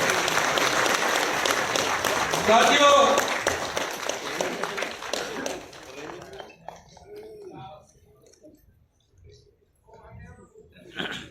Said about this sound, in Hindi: हम तालियों के साथ फिर से उनका स्वागत करते हैं।